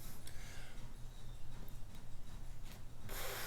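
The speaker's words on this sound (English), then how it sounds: "got their washer on and it's shaking and it's rattling" Low, steady mechanical rumbling from a shaking washing machine, with a continuous rattle and faint ticking, close by and unbroken, with a brief brighter burst of noise near the end.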